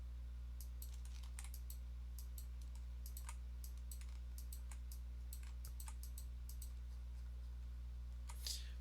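Computer keyboard keys pressed in uneven bursts of crisp clicks with short pauses between, sitting over a steady low hum.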